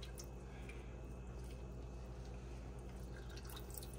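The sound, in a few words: squeezing lemon juice into a pan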